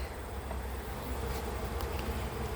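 A dense, steady buzzing of many honeybees close by at a hive entrance, continuous throughout with no pauses and no voices.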